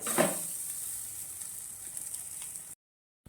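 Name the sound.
curry leaf rice being stirred in a pan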